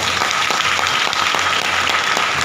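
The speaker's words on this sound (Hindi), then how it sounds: "एक बार अपने अपने स्वागत के लिए एक बार जोरदार तालियां।" Loud, steady applause from an audience welcoming newcomers at a gathering, a dense wash of clapping that holds evenly throughout.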